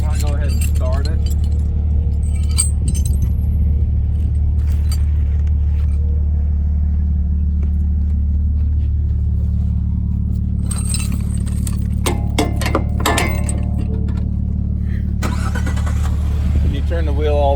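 A Ford F-150 pickup is being started while keys jangle nearby, with a steady low engine rumble throughout and metallic clinks and bursts of rattling near the end.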